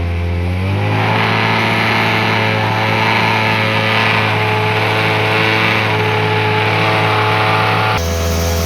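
A small mini-generator engine connected through a voltage stabilizer drones steadily at a constant pitch with a loud mechanical hum, running without pause until an abrupt shift near the end.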